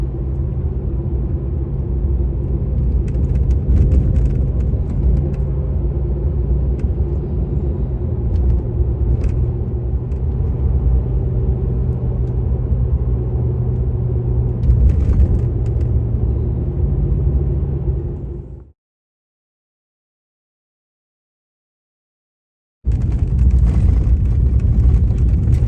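A vehicle towing a trailer on the Alaska Highway rumbles steadily over rough frost heaves. The loud, low road drone carries faint clatters and runs about 18 seconds, drops to silence, then resumes.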